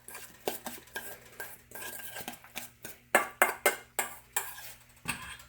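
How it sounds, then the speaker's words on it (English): Chopped red onion being stirred into mashed avocado in a bowl for avocado toast, with a utensil scraping and clinking against the bowl in a series of irregular strokes that grow louder and more rhythmic toward the end, close and alone. "Go ahead, mix it in."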